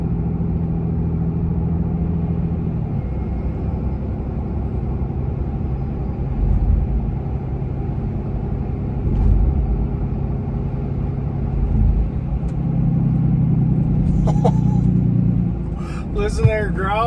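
A truck with a newly installed cold air intake accelerates onto a highway, its engine a loud, deep rumbling growl that swells in waves, with someone talking over it.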